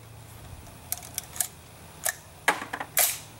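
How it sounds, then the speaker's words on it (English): A 7.62x39 rifle with a Rare Breed FRT-15 trigger misfires on a light primer strike, leaving a few sharp, close metallic clicks and clacks in short succession over a quiet background. "One light primer strike."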